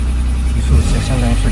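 A Mercedes R107 280SL engine, just repaired for a faulty fuel distributor, idles at about 900 rpm. It makes a steady, close, low rumble with a voice faintly underneath.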